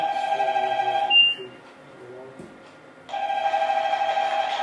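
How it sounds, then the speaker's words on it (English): Smoke detector alarm sounding from a fire control panel in a video game: a steady, loud electronic tone that cuts out for about two seconds in the middle, then resumes unchanged. "Looks like a smoke detector has been triggered by that."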